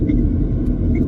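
A car rolls along a gravel road during a storm chase in Nebraska, a loud, steady low rumble of tires and engine with no voices.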